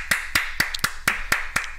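Hand clapping: seven sharp, evenly spaced claps about a quarter second apart, close and crisp, with nothing else behind them.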